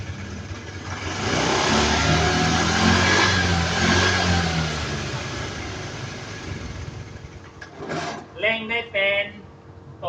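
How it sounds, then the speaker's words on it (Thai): Motorcycle engine kick-started and revved, a sustained loud engine roar that fades, followed by a few short clattering bursts near the end, with a voice speaking over it. "ครูสตาร์ทเท้า ติดไหมครับ ติด ลองเร่ง"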